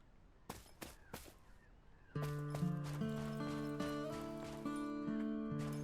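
Horse in the Western game Cowboy Life Simulator: a few sharp hoof-like knocks open the scene, then a steady sustained tonal music bed with layered held notes takes over, the horse sounds fading behind it.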